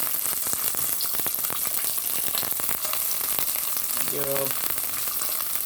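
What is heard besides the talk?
garlic and bok choy sizzling in olive oil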